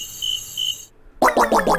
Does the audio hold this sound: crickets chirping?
yes